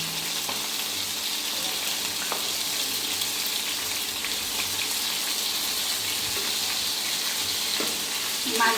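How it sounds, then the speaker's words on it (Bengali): Sea fish (tular dadi) frying in hot oil makes a steady, close-up sizzle with no break, and a few light clinks of a utensil against the pan come through now and then. "মাছগুলি একটু লাল করে ভাজতে হবে।"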